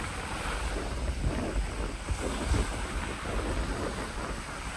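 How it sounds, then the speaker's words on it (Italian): Strong wind buffets the microphone outdoors near the water on the outskirts of Naples, a loud continuous roar with gusty low thumps and rumbles. "tira un vento che fa spavento"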